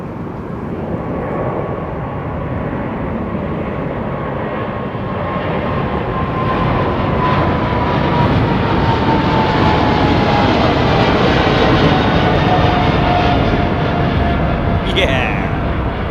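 A jet airliner rolls and takes off down a Heathrow Airport runway, its broad engine roar building steadily and staying loud and sustained from a moderate distance.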